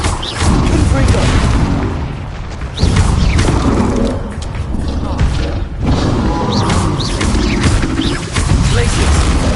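Repeated Confringo fire-blast explosions in Hogwarts Legacy, with heavy booming impacts and crashes recurring every few seconds amid continuous loud game combat noise and music.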